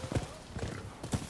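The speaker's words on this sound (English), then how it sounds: "Although the horse is running pretty weird." Horse hooves clip-clopping in the video game Rise of the Ronin, a few distinct thuds in an uneven gallop, close and moderately loud.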